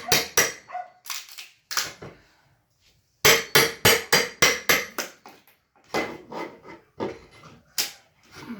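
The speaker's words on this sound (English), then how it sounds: "dogs are going nuts." Sharp, rapid barking from dogs, loud and close, in repeated bursts with brief pauses between runs.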